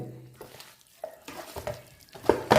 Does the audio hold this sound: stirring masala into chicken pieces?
yes